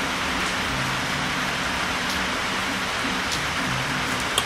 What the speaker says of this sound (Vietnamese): chiên xong nãy giờ tạnh giờ mưa nữa rồi